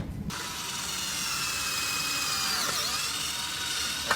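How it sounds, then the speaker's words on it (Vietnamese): A DeWalt 26V cordless drill drives screws into a sheet-metal roofing frame, giving a steady, close high-pitched motor whine that runs almost unbroken for about four seconds with no talking. "mình đang thử test máy trên dòng test bắn máy tôn trên dòng máy khoan pin DeWatt"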